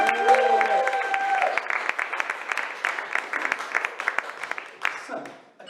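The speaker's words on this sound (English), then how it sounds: "Can we get another round of applause for Sophia?" Audience applause after a talk, a dense burst of clapping that builds and holds steadily before thinning out toward the end, with a voice speaking over the start.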